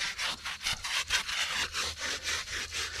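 A car interior trim panel being scrubbed hard during a deep clean of a Chevrolet Traverse, heard as rapid, rhythmic, close-up brushing strokes about four per second, loud and alone.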